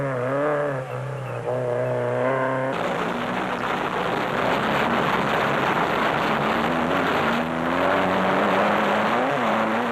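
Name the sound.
rally race vehicles, Toyota Hilux overtaken by a fast-closing rival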